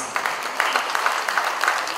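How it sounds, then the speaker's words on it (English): Guests at a formal cultural farewell dinner in Jakarta applaud during a flag handover ceremony, giving a steady, moderately loud round of clapping from a crowded hall. "Ladies and gentlemen, please give an applause."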